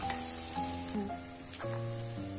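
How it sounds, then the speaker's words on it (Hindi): Onions fry in oil for a chana chaat masala, a soft steady sizzle running throughout at low level, with faint tonal sounds alongside. "प्याज को अच्छे से तलना है"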